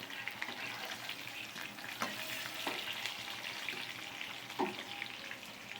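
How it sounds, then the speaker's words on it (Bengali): Potato pieces frying in hot oil, a continuous dense sizzle with a few sharper spatters and light stirring scrapes, close and steady with no voices. "আলুগুলোকে সব আমি ভেজে নিচ্ছি।"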